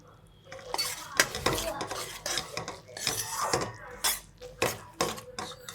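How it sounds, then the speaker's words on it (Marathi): Sesame seeds tipped into hot jaggery syrup for Sankranti til chikki and stirred with a metal spoon in a pan, giving repeated scraping clinks and knocks in an irregular rhythm, close and moderately loud. "आपण तीळ टाकून घेऊया आता."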